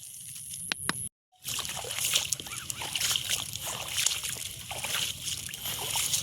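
Floodwater splashing and sloshing around rising to knee height near a dam, a steady broadband wash with repeated splashes throughout, briefly cut to silence near the start, with faint voices in the background.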